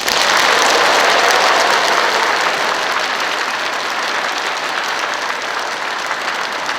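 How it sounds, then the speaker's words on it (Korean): Church audience applause welcoming a visiting nun before an Advent talk, loud dense clapping that holds steady for nearly seven seconds and eases slightly toward the end, with no voices over it. "2번으로 박수 환영합니다"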